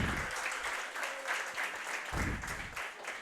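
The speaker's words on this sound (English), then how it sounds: "A well-deserved round of applause" Applause for a golfer, Jackson Ensley, on his state qualification, a crowd clapping steadily and fairly close, with a few low thumps mixed into the even patter.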